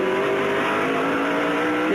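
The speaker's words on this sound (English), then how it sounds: "Earnhardt Jr. racing Ricky Craven side by side for 3rd as they come to the stripe to start lap 3" NASCAR race cars running side by side toward the start-finish line early in a race, a loud, steady engine roar with a slight pitch shift near the end, no voices.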